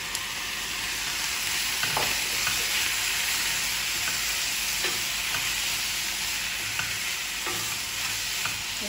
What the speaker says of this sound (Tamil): பார்த்தீங்களா வெங்காயம் கொஞ்சம் வதங்கிட்டுது